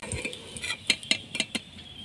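Fried potatoes are stirred and lifted out of hot oil, making a brief run of close metallic scrapes and clinks from a utensil against the pan, with a faint sizzle underneath.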